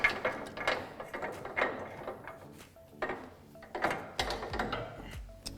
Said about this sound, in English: So we can just easily remove the factory front spring.